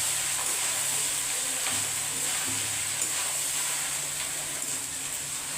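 Rice being fried in ghee and white oil for a Gobindobhog rice pulao, a constant bright sizzling hiss close by with faint stirring underneath.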